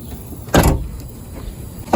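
The power window actuator in a 1997 Jeep Grand Cherokee door, under repair, runs with a sharp loud mechanical whir and clunk in the middle, followed by quieter faint movement and another thump at the end.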